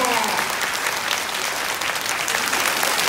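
Dense, steady audience applause fills a ceremony hall at the Taiwan Railway 131st anniversary and Railway Day celebration, with loud, continuous clapping throughout.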